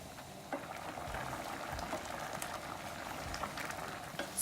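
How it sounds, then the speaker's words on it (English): Oats upma cooking in a pan on high flame as the water boils off: a faint, continuous bubbling and sizzling with scattered small pops, heard alone without talk. "I increase the flame now and let it cook till all the water evaporates."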